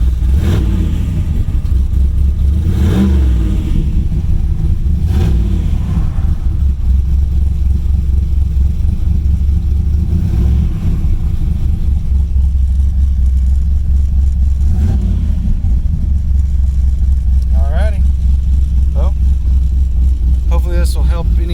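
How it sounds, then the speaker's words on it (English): A car engine idles with a steady low rumble and rises into several short revs, spaced a few seconds apart, loud and close. "Let me see if I can rev it here a little bit"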